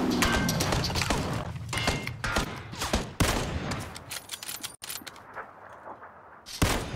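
Rapid bursts of gunfire in PUBG, with loud sharp shots clustered in quick volleys, then a short pause before more shots ring out near the end.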